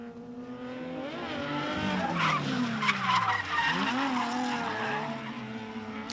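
At a Pro Light drifting competition on a remote dirt-road venue, drift cars slide through a run with long wavering tire squeals and rising, falling engine revs. The sound swells loud in the middle and then eases off.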